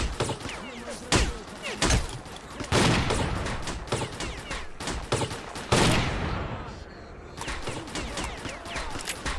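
Shotgun blasts in the S.T.A.L.K.E.R. Clear Sky video game, a rapid string of loud, booming shots coming in bursts throughout, with a brief lull midway before the firing resumes.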